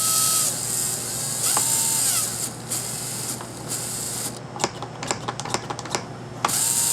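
American Flyer Alco diesel model train with a converted permanent-magnet DC motor running, giving a steady whirring mechanical hum with rattling, clicking bursts and a few sharp ticks toward the end.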